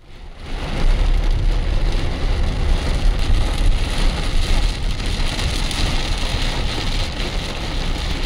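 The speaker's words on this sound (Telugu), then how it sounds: "ఏకధాటిగా కురిసిన భారీ వర్షానికి కాలనీలు నీట మునిగాయి" Heavy rain pours down in a dense, loud, unbroken roar, with steady hiss and patter on surfaces and no voices.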